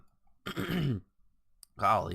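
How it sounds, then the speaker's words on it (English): A close, voiced throat clearing, two short rough bursts separated by a pause. "I apologize for having to constantly clear my throat tonight."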